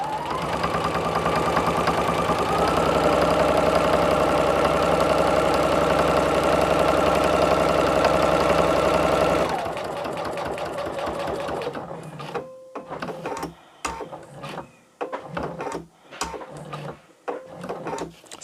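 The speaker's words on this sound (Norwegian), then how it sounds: "Så syr vi rundt hele, og husk at du kan bruke redusert stinglengde her." A sewing machine stitching all around a jacket piece at reduced stitch length, a loud steady mechanical whir for about ten seconds, then a shorter run and scattered clicks and handling noises as it stops.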